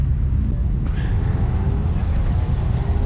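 A Honda with a B-series engine swap pulls away at a car meet, its engine a steady low rumble in a noisy outdoor setting while people talk in the background.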